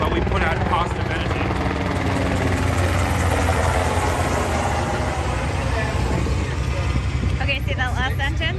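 Helicopter flying overhead near San Diego Bay, a loud continuous rotor and engine rumble that fills the whole stretch at steady strength, while people talk over it.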